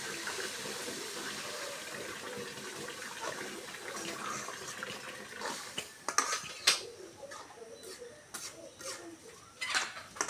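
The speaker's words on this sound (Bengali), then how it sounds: "এখন একটু পানি দিব পরিমাণ মতন" Water poured into a pan of spiced, sautéed potatoes, a steady splashing pour that settles into intermittent sizzling and spatters, close and moderately loud.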